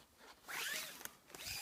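A zipper runs along the rain flap of a Vango Halo 200 tent, a short, quiet, close-up rasping pull lasting under two seconds.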